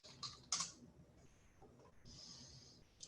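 Quiet keystrokes on a computer keyboard come in a few short bursts with brief pauses between them, soft and close, with no talk over them.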